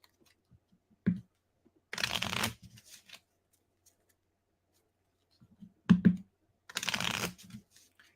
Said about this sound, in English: So this definitely needs shuffling.